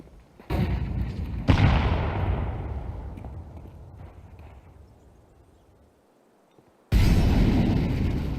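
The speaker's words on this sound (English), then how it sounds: "Throwing flashbang." A flashbang grenade detonates in Arma 3 with a sharp, loud burst that rings out and decays over several seconds, followed by a brief near-silence before another loud blast erupts.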